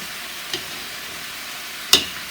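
Collard greens with tomatoes and shallots sizzle in a pan under a steady soft frying hiss, broken by two brief stirring scrapes, close and unaccompanied by talk.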